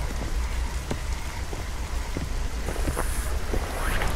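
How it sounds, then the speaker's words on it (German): Steady rain falls in The Witcher 2: Assassins of Kings video game, a dense continuous hiss of drops on surfaces with occasional louder patters and a little wind, no talking over it. "Regnet aber ganz schön."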